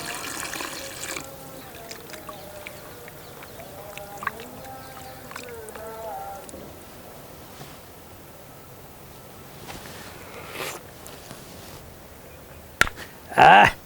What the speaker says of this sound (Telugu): ముక్కలు మునిగే వరకు నీళ్ళు పోసుకుంటే సరిపోతుందండి